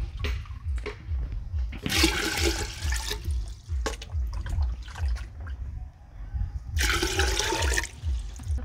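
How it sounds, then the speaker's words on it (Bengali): Water gushes into a cooking pot in two strong bursts with a trickling pause between, close and loud, for boiling mutton fried rice. "জল দিয়ে দিচ্ছি জলের পরিমাণটা বেশি লাগবে"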